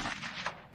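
Brief, faint gunshot from the online social deduction game Goose Goose Duck, a few soft bursts within under a second.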